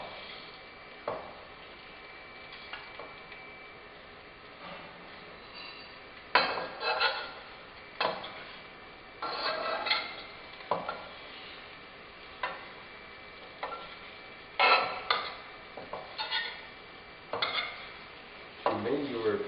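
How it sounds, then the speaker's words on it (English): Tianjin scallion pancake dough fries in a pan with a low, steady sizzle, broken by repeated bursts of scraping and pushing as the hardened dough is moved around. "in the process of your frying, after the dough becomes hard, you can push it like this way"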